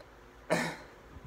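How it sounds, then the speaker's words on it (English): A single short, breathy cough from a man, close to the mic in a quiet room, with no voices before or after it. "I got a cough right now."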